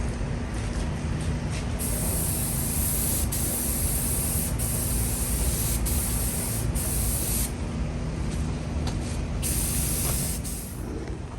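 Orange spray paint hissing from an aerosol can onto a vintage gas pump cabinet, a steady continuous spray lasting the whole stretch with brief pauses in the upper hiss, close and loud.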